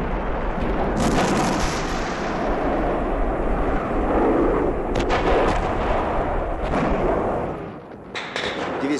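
Divisional artillery booms in a 1968 Soviet war film about a river crossing, heavy gunfire and blasts blending into a dense, continuous roar that eases off near the end.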